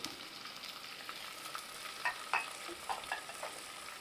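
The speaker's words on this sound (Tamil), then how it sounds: "இதை நல்லா வதக்க ஆரம்பிச்சிருவோம் நல்லா பொன்னிறமாக வர வரைக்கும் நம்ம வதக்கணும்" Salted onions sautéing in a pan for Chettinad chicken masala, a close steady sizzle with small crackling pops and stirring scrapes, fairly quiet.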